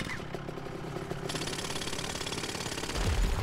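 A jackhammer pounds rock in the survival game The Front, a rapid mechanical rattling that runs continuously and loud, with a heavier thud near the end.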